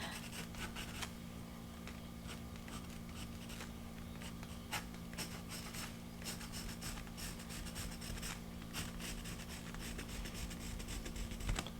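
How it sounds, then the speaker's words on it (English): A teal Lyra Color Giant colored pencil sketches on a journal page, giving a close, continuous scratchy rubbing with short strokes and brief pauses, no talking. "This is a Lyra Color Giant in a teal. So I'm just going to try and do a little bit of"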